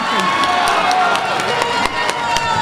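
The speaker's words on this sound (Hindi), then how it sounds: "मैं चाहता हूं कि एक बार जोरदार ताली उनके लिए बजे।" A mushaira audience breaks into applause, a dense wash of clapping with crowd cheering that runs throughout the clip, close and loud, with some voices mixed in.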